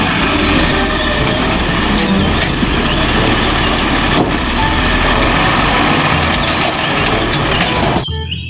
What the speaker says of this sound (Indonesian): Yang ini ada mobil pengangkut sampah.